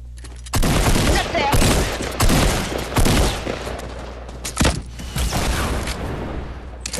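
Loud explosive bursts and booms from a Fortnite Battle Royale rocket launcher, several heavy blasts in quick succession followed by a rumbling tail and scattered impacts.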